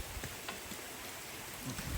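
Heavy rain falls beside a forest stream on a fishing outing, a steady, faint, close hiss with scattered drops and no voices.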